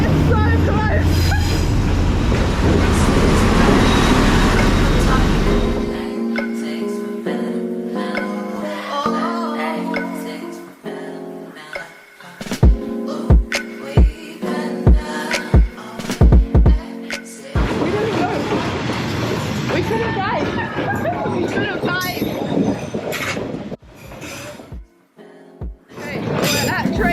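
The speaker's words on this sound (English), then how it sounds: "so I take it the train is coming." A train rolls along Train Street in Hanoi, first as a loud, dense rumble, then as rattling and clanking wheels and cars passing close by, with people talking throughout.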